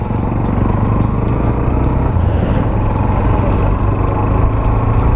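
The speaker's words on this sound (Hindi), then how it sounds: "फाइनली स्टार्ट हो गया गाड़ी" A Hero Xtreme 125R motorcycle engine idling steadily just after starting, a loud, close, continuous low rumble that holds evenly throughout with no speech.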